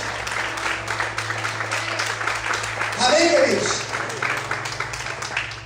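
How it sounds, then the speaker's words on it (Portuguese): A church congregation applauds during a Sunday morning service: a dense patter of clapping runs throughout, while a preacher keeps speaking over it and briefly rises louder midway. "Você pode aplaudir e glorificar o Senhor essa manhã"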